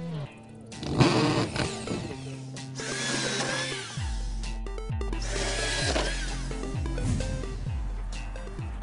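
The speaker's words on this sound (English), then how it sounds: "So let's drill." Power drill boring holes through plywood for a temporary window shutter, the motor whining in repeated bursts with rising pitch as the bit bites, loud and close with no talk.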